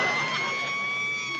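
An ambulance siren wails continuously at a steady pitch, loud and close, filling the whole moment without pause.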